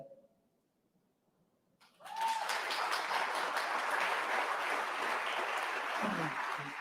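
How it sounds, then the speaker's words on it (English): Audience applause at an evening candidates' forum, a quiet start that swells after two seconds into sustained, even crowd clapping that continues steadily to the end. "Ladies and gentlemen, another round of applause for our candidates this evening"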